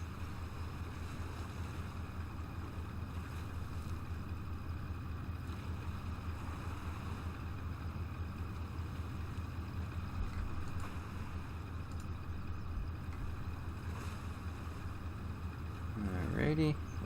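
A fishing boat's engine in the World Ship Simulator game, running under throttle as a steady, continuous low drone mixed with water wash and wind, holding an even level for the whole stretch before swelling slightly right at the end.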